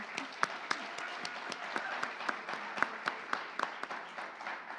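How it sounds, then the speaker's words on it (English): A pageant audience applauds the judges, distinct sharp claps standing out over a lighter spread of clapping, moderately quiet and steady for several seconds. "can we give one more round of applause for these amazing people?"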